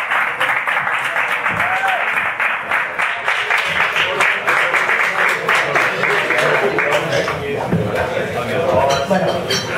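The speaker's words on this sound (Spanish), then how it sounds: "un aplauso para ella" Applause at an award ceremony: a close, lively burst of hand clapping that keeps up steadily throughout, with cheering and voices mixed into it.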